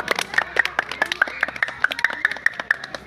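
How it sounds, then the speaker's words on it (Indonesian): Scattered hand claps from a group of students applauding a classmate after a long jump demonstration at school, uneven and fairly close, with a few louder sharp claps standing out. "Beri tepuk tangan, udah Krisna."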